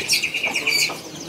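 A small jenggot mini songbird calls in a quick run of high, bright chirps and trills, close and clear, lasting only a moment with no voices.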